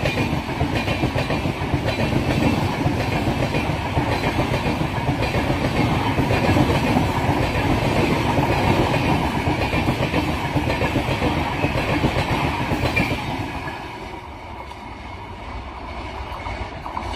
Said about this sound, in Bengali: বেরিয়ে গেল সাইরাং এক্সপ্রেস।